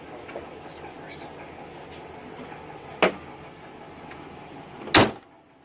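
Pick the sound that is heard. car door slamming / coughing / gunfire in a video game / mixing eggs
car door slamming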